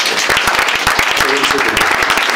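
A church congregation at a testimony service at Centre Péniel in Divo claps and applauds in a dense, loud, continuous burst close by, with voices rising through the clapping.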